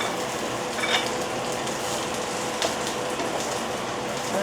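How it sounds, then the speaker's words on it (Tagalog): White onion sautéing in a hot pan, a steady close sizzle and crackle that runs unbroken, with a few brief stirring clicks on top. "So, now, igigisa natin yung white onion."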